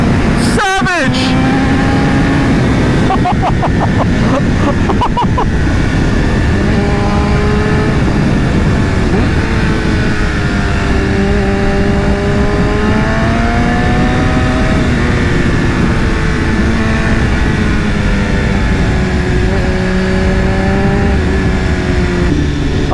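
A BMW S1000RR motorcycle with a loud Akrapovic exhaust roars close and continuously, its pitch rising and falling through repeated revs, while a voice talks over it.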